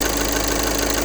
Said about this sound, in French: Là j'ai mis le moteur en route.